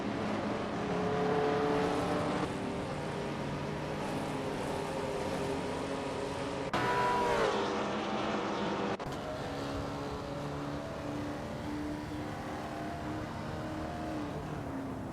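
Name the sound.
race cars on track in Le Mans racing video game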